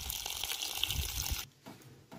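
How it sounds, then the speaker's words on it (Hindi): Water splashes and pours as rhododendron flowers are washed in a bucket, a busy, continuous sloshing that stops abruptly and is followed by a couple of faint knocks. "अब इसे रखा जाएगा बाल्टी में और पानी से धोया जाएगा।"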